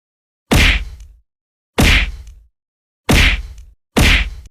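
Four punchy hit impact effects from a Unity snake slider game, each a sharp thwack with a quick decaying tail, spaced evenly about a second or more apart with silence between.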